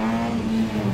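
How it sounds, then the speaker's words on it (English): A Nissan Micra accelerating on a race track, a loud sustained engine drone with a steady buzzing pitch and no voices. "So much speed coming out of that Micra."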